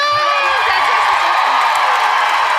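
A theater audience at a live comedy show in Kansas City cheers and whoops for a woman named Brooke, a loud steady crowd roar with scattered shouts running the whole time.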